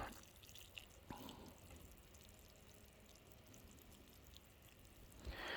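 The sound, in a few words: water poured into a planting hole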